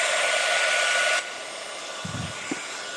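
A hair dryer blows steadily and loudly on a painted jewelry box, then cuts off abruptly, followed by a few soft handling knocks.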